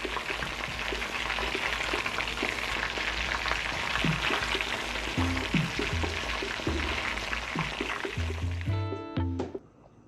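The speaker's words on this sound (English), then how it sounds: "So now we're gonna flip them over to cook on the other side." Scotch eggs frying in a pan, a dense continuous sizzle and crackle close by, with a few soft bumps as they are turned, fading out at the end.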